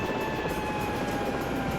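Helicopter sitting after landing in the game Search and Rescue 4, a steady loud engine and rotor drone with a constant whine, unchanging over the short stretch, no voices.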